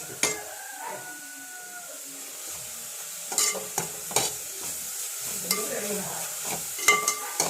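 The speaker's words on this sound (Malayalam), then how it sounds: "നല്ലപോലെ ആവി വന്നു കഴിയുമ്പോൾ ഇളക്കണം" A cabbage thoran stir-fry is turned in a pan: a spoon scrapes and stirs in irregular strokes over a faint, steady sizzle, close and fairly quiet, with no talking.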